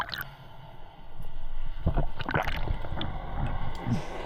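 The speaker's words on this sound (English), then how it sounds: "You hear this, you know you got a boat nearby" A boat motor passes nearby, heard underwater off the Oregon coast near Newport: a low rumbling drone that swells and lingers, with bubbling and water noise around it.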